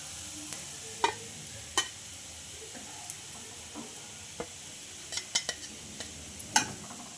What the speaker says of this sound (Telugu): మనకు ఇది ఫ్రై అవ్వడానికి ఒక రెండు నిమిషాలు అయినా టైం అయితే పడుతుందండి